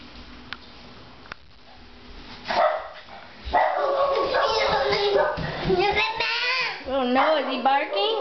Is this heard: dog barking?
yes